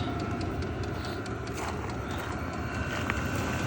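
A portable heater runs off a home-built power station, blowing warm air with a quiet exhaust: a low, steady mechanical rumble with faint ticking, fairly soft and continuous.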